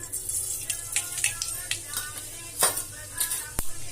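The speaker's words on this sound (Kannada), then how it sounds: "ಎಣ್ಣೆ ಕಾದದ ಈಗ ಇದಕ್ಕೇನದ ಸಾಸಿವೆ ಹಾಕೋಣ" Mustard seeds crackling and popping in hot oil in a home kitchen pan, a steady soft sizzle with scattered sharp pops and a few light utensil clinks, close and moderately loud.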